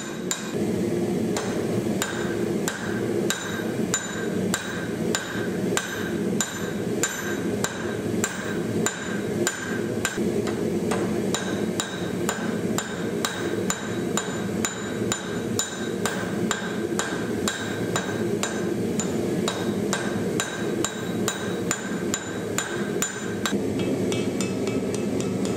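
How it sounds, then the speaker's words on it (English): Steady, rapid hammer blows ring out on steel as a seax blade's tang is forged, a continuous close metallic pounding with ringing overtones and no talk throughout. "finally reaching the other end of the blade, where he will forge what will become the tang."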